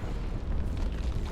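Orbital bombardment explosion in the Dawn of War 2 strategy game, a dense rumbling blast that roars loud and sustained through the whole moment with heavy low-end weight and no speech.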